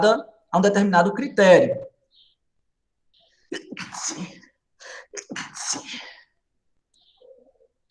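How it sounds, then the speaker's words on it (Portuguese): A loud sneeze bursts out at the start during a Portuguese-language basic computing lesson, followed after a pause by a person speaking quietly. "Desculpe, pessoal, aí, pelo espirro."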